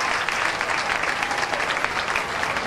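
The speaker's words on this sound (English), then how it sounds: "a round of applause for all of our sponsors" Steady applause from a crowd at a county fair queen and king event, dense and continuous clapping filling the whole stretch with no voices standing out.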